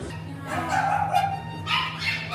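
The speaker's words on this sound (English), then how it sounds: "It's a golden retriever puppy" A golden retriever puppy in a dog cafe in China gives a few short, high yips and whimpering barks at close range, with faint voices in the background.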